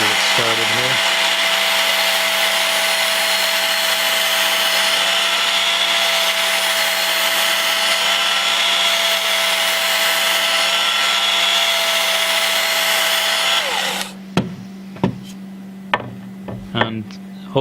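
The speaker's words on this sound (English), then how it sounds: "the grinder itself towards the bevel and going down, or at least consistently in one direction to get an even grind" A grinder sharpening a blade bevel, running steadily with a loud, sustained whine and grinding hiss for about fourteen seconds, then spinning down, followed by a few sharp knocks in the quiet.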